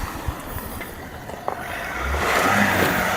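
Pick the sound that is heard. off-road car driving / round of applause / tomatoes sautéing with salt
off-road car driving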